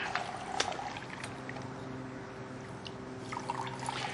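Water streams steadily from a homemade 110-volt instant water heater, a soft continuous trickle with scattered drips and splashes, fairly quiet and close with no talking.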